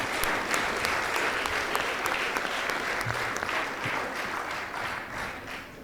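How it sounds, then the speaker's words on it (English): An audience at a plenary conference session gives a lecturer a round of applause: steady, even clapping from a room full of people that holds level, then tapers slightly at the end. "Please give him another round of applause."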